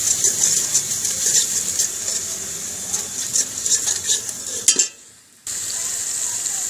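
Spices get stirred into arvi leaf curry frying in a pan, giving a steady close sizzle with scraping strokes of a spoon, then a brief drop to near silence before the frying resumes.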